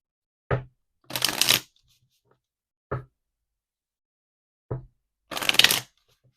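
Oracle cards are shuffled in two quick riffling bursts, each with a soft tap as the deck is squared, close and clear in a quiet room with no talking.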